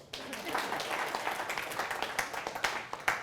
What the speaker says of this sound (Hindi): दिल लगे तो ताली बजा दो।